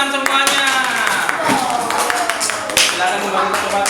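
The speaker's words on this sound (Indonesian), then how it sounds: "Tepuk tangan semuanya" A classroom of students claps hands together in a science lesson, a scattered, bright patter of clapping mixed with children's voices talking and calling out close by.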